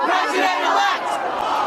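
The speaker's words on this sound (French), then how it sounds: "La célèbre 5e avenue de New York s'est même retrouvée paralysée par une foule hostile" A hostile protest crowd packs Fifth Avenue in New York near Trump Tower, a loud dense roar of many shouting voices that stays steady throughout.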